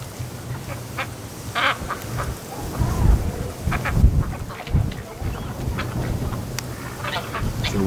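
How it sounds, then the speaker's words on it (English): Wintering ducks quack in a barn on a snowy night, with repeated bursts from several birds overlapping at close range, a low rumble underneath and occasional faint voices. "It looks like ducks."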